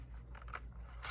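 A small handheld craft cutter slices through a paper craft piece in a few quick, crisp cutting and scraping strokes, close and fairly quiet, with no talking.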